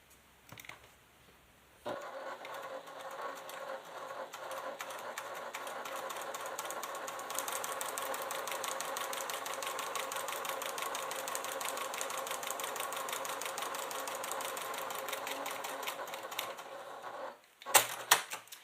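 A sewing machine fitted with a Teflon foot stitches quilted leather, running in one long, steady whirr with a rapid needle rhythm, framed by brief handling clicks before and after.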